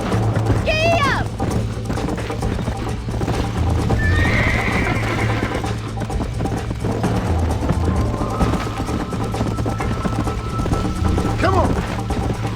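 A horse in Red Dead Redemption gallops with steady rapid hoofbeats, whinnying loudly near the start and again near the end, while a voice speaks over the running.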